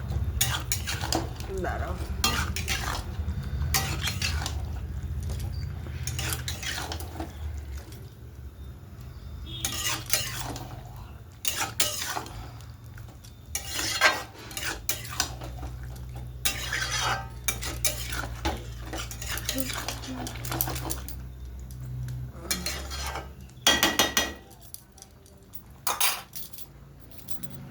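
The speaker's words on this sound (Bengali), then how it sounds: "এখন এটা ভালো করে মিক্সড করে নেব।" Chicken with chili powder is stirred in a pan for a spicy winter chicken kosha, with repeated metal utensil scrapes and clanks against the pan. A low sizzle runs beneath, and a voice speaks briefly.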